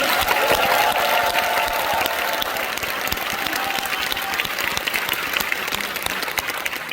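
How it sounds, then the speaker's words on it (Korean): A congregation claps together in a large church auditorium at a worship service marking the 78th Liberation Day, a dense sustained applause that fills the hall and fades slightly toward the end. "하나님 앞에 감사와 영광의 박수를 올려주십시오."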